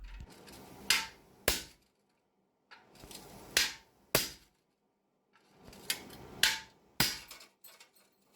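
Forging a garden hoe, a hammer drives a hot chisel through excess metal in three sets of sharp metallic blows, two or three strikes each with short ringing decays and brief pauses between sets.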